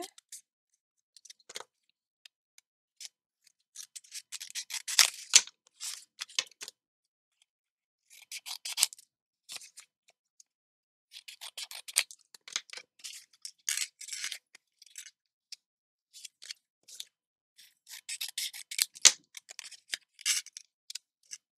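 Scissors cut paper for a pop-up album in repeated bursts of crisp, close snipping and slicing, with short pauses between the runs of cuts and no talking.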